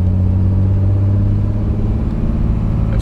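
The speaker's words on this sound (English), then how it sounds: "It shifts fine when you're accelerating from a stop." A Cummins diesel truck with a 48RE automatic transmission runs in cold weather. Its engine gives a steady, close, deep rumble, with only slight changes in load as it pulls.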